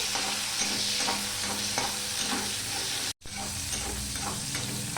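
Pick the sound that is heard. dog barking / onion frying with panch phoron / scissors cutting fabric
onion frying with panch phoron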